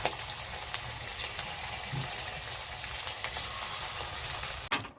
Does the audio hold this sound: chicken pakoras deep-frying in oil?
yes